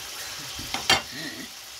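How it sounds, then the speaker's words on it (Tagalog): Tomatoes fry in a pan with a little added water while being mashed, giving a soft, steady sizzle with a short scraping clatter of the utensil near the middle. "At lutuin natin guys ang ating kamatis na magdurog-durog."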